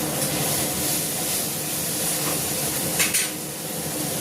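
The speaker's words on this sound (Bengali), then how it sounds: "তা লাউ ঘন্টের জন্য আমি ফোড়ন দিচ্ছি, দেখো গোটা দিয়ে আর দুটো তেজপাতা দিয়ে নিচ্ছি" Whole spices and two bay leaves sizzle in hot oil for a bottle gourd dish, a steady close hiss that holds evenly throughout with a brief brighter crackle near the end.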